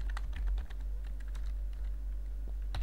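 Keys clatter on a computer keyboard while Python code is typed, a loose run of light clicks with a short pause, close and clear over a low steady hum, no talking.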